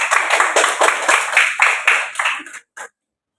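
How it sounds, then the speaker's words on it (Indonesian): A classroom of pupils claps hands together in a loud, steady burst of rhythmic claps that fades out, with a last few stray claps after a short pause. "Tepuk tangan kita semua hari ini."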